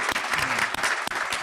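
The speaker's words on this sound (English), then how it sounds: "I also just want to have us all give a round of applause to the workers who are serving us dinner tonight" Dinner guests at a chamber of commerce mayors reception applaud the serving staff, a brisk round of clapping that fills the room at moderate volume with a few sharper individual claps.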